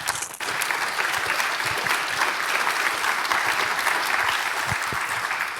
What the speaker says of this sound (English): a big applause to them